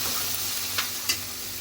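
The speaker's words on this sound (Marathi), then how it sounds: "कांदा थोडा शिजवून घेते कांदा थोडा मऊ झालाय" Chopped onion sautéing in a pan, a soft continuous sizzle with a couple of brief sharp scrapes or clicks from a utensil, close and fairly quiet.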